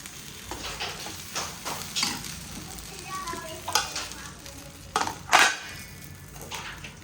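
Fasting dosa batter roasts on a hot griddle with a continuous sizzle, broken by intermittent scrapes and metallic clinks of a spoon against the pan.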